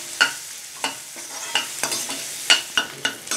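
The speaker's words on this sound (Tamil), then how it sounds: "இப்போ வெங்காயம் வதங்கிட்டு இருக்கீலையே" Onions sautéing in a pan for chicken manchurian, with a soft sizzle broken by a series of close scraping stirs and knocks of the spatula against the pan, and no talking.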